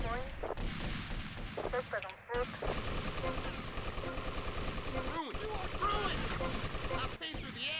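Rapid, nearly continuous gunfire rings out in Grand Theft Auto: Vice City, loud machine-gun bursts with brief gaps, while a voice talks over parts of it.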